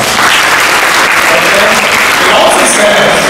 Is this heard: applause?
yes